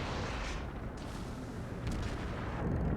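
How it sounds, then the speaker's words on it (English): Naval gunfire from the battleship Bismarck in World of Warships, heard as a dense continuous rumble of distant heavy guns with a couple of sharper blasts near the end, no talking. "the Bismarck is going to shoot at me for whatever reason"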